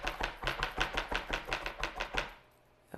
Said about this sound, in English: Okay, chopping garlic.